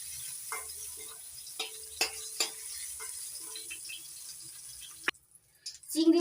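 Shrimp frying in oil are stirred in a pan, with soft sizzling broken by scraping and tapping strokes of the utensil, followed by a louder burst of frying and stirring near the end.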